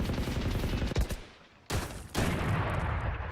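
Dense bursts of rapid automatic gunfire from a Valorant match fill the scene, loud and continuous with a brief lull before heavy firing resumes, no voices over it.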